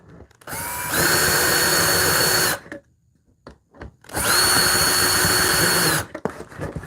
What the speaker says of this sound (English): Coming with the drill here.